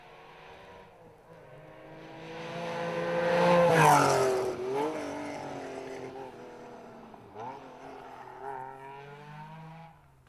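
A Porsche rally car passes on a stage of the Galway International Rally, its engine note rising as it approaches, peaking loudly up close, then falling away with shifting revs as it drives off.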